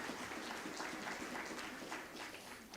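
Audience applause at a US-Africa nuclear energy summit in Kenya, a dense, steady wash of clapping that is faint and distant for about three seconds.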